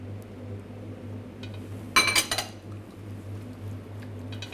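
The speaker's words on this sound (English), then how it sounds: "Give that a good stir." A utensil scrapes and clinks against a pan of chana masala in a brief cluster of metallic knocks, fairly close, over a steady kitchen hum.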